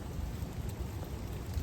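Steady rain falls outside in the rainy Carolinas, a soft, even wash of drops with a faint low rumble beneath, continuous and fairly quiet, with no voices.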